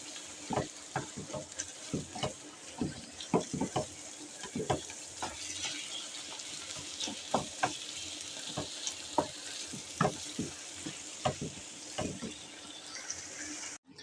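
Chopped onion frying and softening in a pan for chicken croquettes, with a steady soft sizzle broken by frequent stirring scrapes and clicks from a utensil, close and fairly quiet, with no talking.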